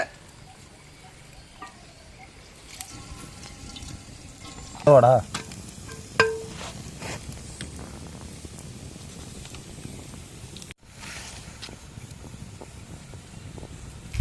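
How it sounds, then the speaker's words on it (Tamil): Oil is poured into a hot, dried-out pan for village-style egg gravy. It sizzles with a short, louder burst partway through, followed by faint clinks and a quiet, steady frying hiss. "இப்போ எண்ணெய் ஊற்றிக்காலு"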